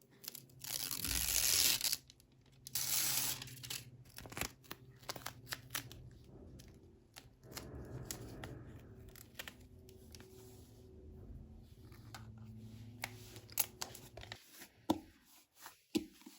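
Paper surprise packages are torn open by hand. Bursts of crinkling, ripping and crunching come up close and fairly soft, with handling noises and pauses between them.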